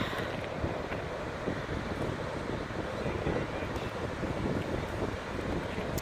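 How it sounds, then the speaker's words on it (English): Indian Ocean waves washing onto a beach under steady wind buffeting the microphone, a constant broad roar with no distinct breaks. "So here it is, Indian Ocean."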